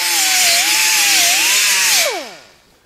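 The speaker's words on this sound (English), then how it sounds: "And you constantly grind, feel. Grind, feel." An angle grinder works a TIG butt weld on a Scout 800 fender, a loud close high whine with a wavering pitch that cuts off after about two seconds and winds down to silence.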